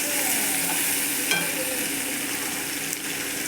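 Capsicum gravy base sautéing with ginger garlic paste in a pan, a dense, steady sizzle with a couple of faint stirring clicks, close and continuous without talk.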